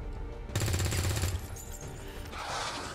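A gunfire-heavy battle in the video game XCOM 2 erupts with a loud, sudden explosion: a dense, booming burst with rattling low rumble that fades into crackling debris and a lingering hiss, with no talking.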